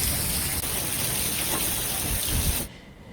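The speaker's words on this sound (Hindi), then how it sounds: "ये तस्वीर देखिए जहां पर तेज हवाएं चल रही है और बारिश हो रही है" Heavy rain driven by strong wind in Jharkhand: a loud, dense, unbroken roar of rainfall that cuts off sharply near the end, with no voices.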